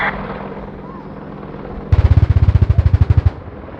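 An Apache helicopter's gun fires a rapid burst of about twenty evenly spaced heavy shots, loud and close, above the steady whine and rotor noise of the aircraft at an air display.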